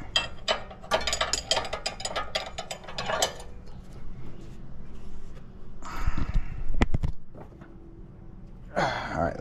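A ratchet tightening the lower ball joint nut on a Lexus GS300/GS400, heard as rapid bursts of close, sharp clicking strokes, then pauses with clunks and handling noises before a final short burst.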